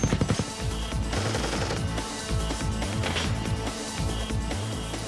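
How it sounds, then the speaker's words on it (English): Sustained machine gun fire as Green Berets come under attack near cave complexes in Iraq, dense rapid bursts of shots with loud, continuous rattling throughout, no voices. "As they approach, the Green Berets come under fire."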